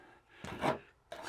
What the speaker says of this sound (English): So this corner trowel really makes it nice to